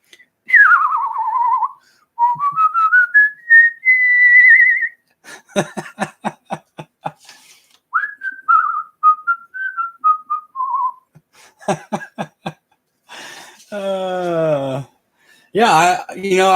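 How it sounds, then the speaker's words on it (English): Clear, melodic whistling in gliding tones and quick trills, alternating with bursts of short staccato notes; close and fairly loud, no talking. "Are you good at whistling?"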